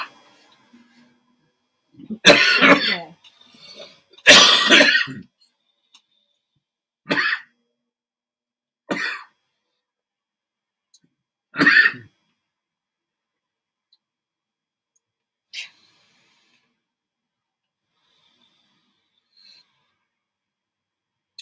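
A man coughing and clearing his throat during a vape review, several harsh, rasping bursts spaced a few seconds apart, the first two longer and loudest, then shorter coughs tapering into near silence, close to the microphone.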